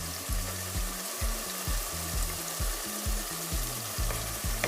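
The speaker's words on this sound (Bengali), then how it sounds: "লাল মরিচের পাউডার 1/2 টিস্পুন দিয়ে আবারও মশলাটাকে কষিয়ে নিচ্ছি।" Spice paste with salt, turmeric and red chili powder sizzles in a pan for a mustard green and fish curry. Close, steady frying hiss is broken by regular scraping stirs.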